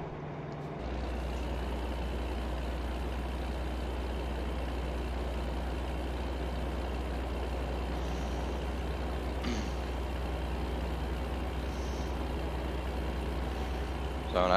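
Steady loud truck engine drone in American Truck Simulator, a low constant rumble running throughout with a few brief hissing bursts like air brakes near the middle and end.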